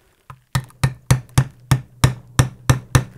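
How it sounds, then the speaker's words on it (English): A hammer strikes punches through leather for a knife sheath in a steady series of about ten sharp, close, loud blows at an even rhythm, with no talking. "the holes are punched all the way through"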